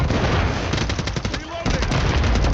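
Rapid automatic gunfire in a military shooter video game, loud bursts of shots fired close up that briefly ease off midway and then resume. Faint voices sit under the shooting.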